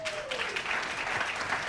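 An audience at a live masterclass session on selling and social media claps in steady, dense applause that fills the room for a couple of seconds, moderately loud and without speech over it.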